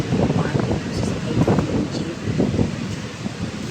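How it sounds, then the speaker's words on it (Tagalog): Strong wind gusting around a person walking near a flyover in Greenfield ahead of rain, a loud steady roar and buffeting over the microphone with rustling, continuous throughout. "Malakas yung hangin."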